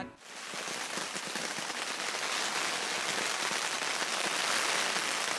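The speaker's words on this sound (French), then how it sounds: "Grosse tempête de pluie, depuis 1 heure." Heavy rainstorm drumming on a tent, a dense, loud, continuous patter with no pauses, close and enveloping throughout.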